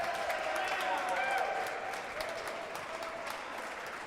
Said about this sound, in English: Got the crowd cheering him on out there.